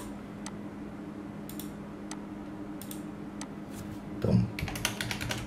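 Computer keyboard typing, soft scattered key clicks at a steady low level, with a brief louder knock near the end and a faint spoken word.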